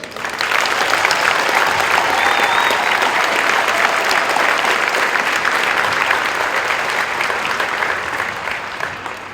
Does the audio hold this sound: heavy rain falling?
no